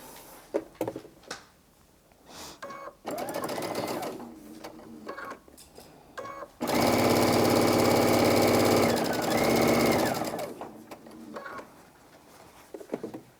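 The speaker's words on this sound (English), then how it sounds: "Now while I'm sewing, I'm just going to keep going and go around the outside of these as well." A sewing machine stitches quilt block fabric in close-up, running in several short rhythmic bursts and then one long steady run of rapid mechanical chatter before it slows to brief stops.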